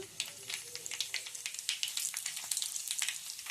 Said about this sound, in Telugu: పోపు దినుసులు వేసుకున్న తర్వాత కొన్ని ఎండుమిరపకాయలను కూడా వేసుకుందాము